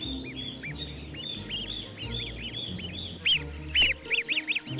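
Young goose hatchlings give rapid, high chirping peeps in a quick cluster, growing louder and more insistent toward the end over a low background rumble.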